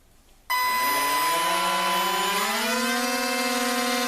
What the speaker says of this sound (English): Listen to that whir, that is pushing it out